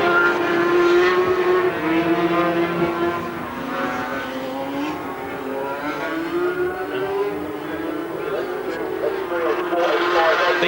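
Racing sidecar outfits with 500cc Yamaha engines scream past on a road circuit, a loud continuous high-revving engine wail that rises and falls in pitch as they accelerate and shift, with no voices.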